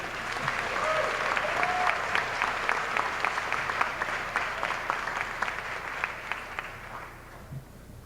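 A large audience claps at a Russell County High School graduation ceremony, a thick, continuous wash of applause with a few sharper individual claps poking through, holding steady and then thinning out near the end.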